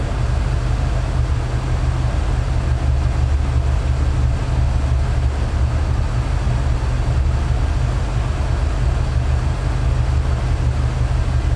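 A 1986 Mercury Cougar engine holds a steady, low rumble at an even idle throughout, close and constant with no voices.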